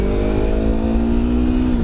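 A Yamaha R25 sport motorcycle fitted with a slip-on exhaust holds a steady, close, loud engine drone with a strong low hum and a slight rise in pitch, heard alone.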